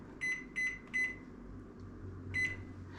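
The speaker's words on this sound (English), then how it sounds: "I'm going to close it up and set my timer for 60 minutes." A microwave oven timer being set on a kitchen counter, giving three quick evenly spaced electronic beeps, a pause, then one more beep, clear and close over a quiet hum.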